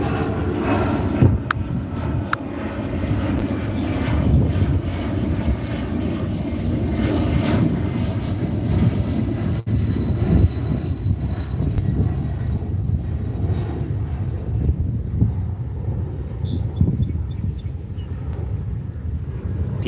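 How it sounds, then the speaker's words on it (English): An airplane passes overhead with a loud, continuous engine drone that holds strong for most of the stretch, then slowly thins and fades toward the end as faint insect chirps come through. "I don't need to stop every time the plane goes by"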